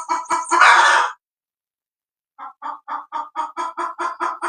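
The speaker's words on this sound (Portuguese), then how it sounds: "essa galinha vai estar perturbando." A chicken squawks and cackles loudly up close, a dense burst of calls followed after a pause by a steady run of rhythmic clucks, indoors in a home.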